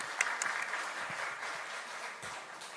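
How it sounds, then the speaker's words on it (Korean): A congregation in a church service applauds to welcome a visiting member's mother, a steady diffuse clapping that fills the room at moderate level from start to finish, with no speech over it. "잠깐 손 들어 주시면 박수로 환영하겠습니다"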